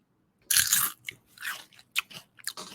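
Snacks are crunched and chewed close to the mic in an ASMR setting: a loud opening crunch, then several shorter bites and chews, with no talking.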